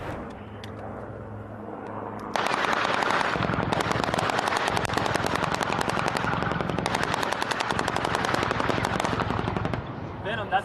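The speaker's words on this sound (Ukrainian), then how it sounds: "Бортове озброєння триствольна 20-мм гармата М197." Rapid, sustained fire from the M197 three-barrel 20mm cannon under the nose of an AH-1Z Viper attack helicopter: a dense, rattling burst that starts abruptly, runs loud and steady for about eight seconds, then cuts off.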